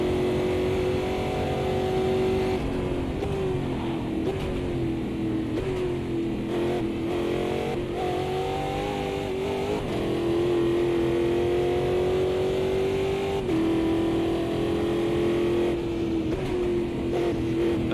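Racing car engine in Automobilista 2, revving steadily and continuously close by, its pitch rising and falling through gear changes over the whole stretch, with no talking.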